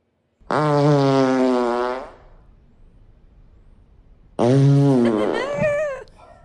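Recorded fart played back on a podcast: two long, loud, deep and rumbling blasts, the first about a second and a half, then a pause and a second wobbling, pitch-shifting one.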